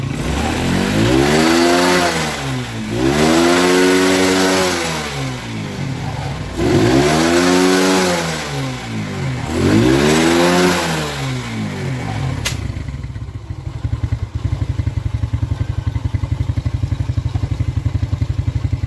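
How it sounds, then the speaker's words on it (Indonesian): A Suzuki Smash motorcycle engine with an oil-burning fault revs up and down in four loud, rising-and-falling surges, then settles into a rough, clattering idle. "kita nyalakan mesin dan kita lihat seberapa keluar asap sepeda motor ini"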